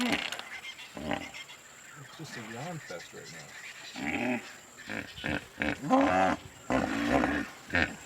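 At a hippo pool in Botswana, hippos give repeated deep grunting and honking calls, some close and loud, with wheezy bellowing bursts later on, while people talk briefly at the start.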